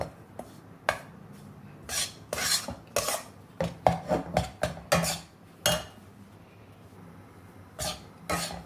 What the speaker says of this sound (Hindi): क्योंकि मैं इसे कंटिन्यू घुमा रही हूँ